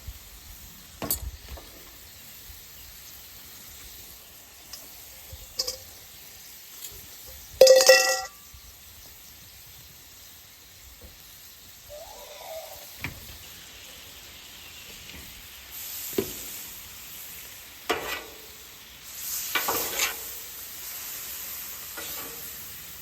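Kale, peppers, onions, garlic, snow peas and broccoli stir-frying on a griddle, giving a soft steady sizzle broken by intermittent scraping and stirring strokes, with a sharper clatter partway through.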